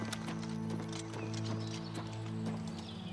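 Horse hooves clip-clop in an Oblivion Remastered game scene, a steady rhythmic series of sharp footfalls over a constant tonal background, with no talking.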